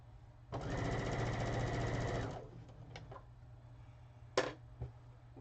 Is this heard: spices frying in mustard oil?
no